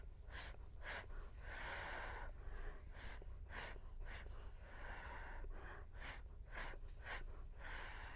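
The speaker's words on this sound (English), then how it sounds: "Now let's practice the pant blow breathe" Pant-blow breathing practised in a childbirth education class, a series of quick rhythmic breaths and sharp exhaled puffs in short irregular bursts, soft and close, with no talking over them.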